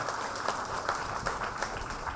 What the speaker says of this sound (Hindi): जोरदार तालियां अपने लिए बजाइए।